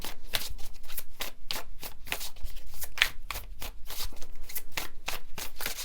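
Tarot cards are shuffled up close in a quick series of crisp, papery riffles and slaps, a dozen or so bursts in a steady rhythm, with no voices.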